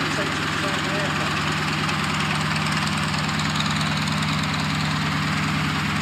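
A Westland Lysander propeller aircraft at the Shuttleworth May Evening Airshow 2019, its engine giving a loud, steady, unbroken droning roar throughout.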